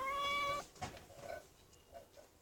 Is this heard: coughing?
no